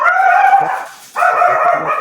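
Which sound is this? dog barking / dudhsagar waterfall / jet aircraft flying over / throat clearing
dog barking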